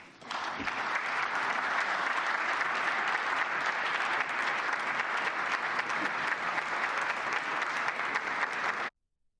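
Sustained applause from a large audience after a political speech, a dense steady wash of clapping at even loudness for about nine seconds before cutting off abruptly.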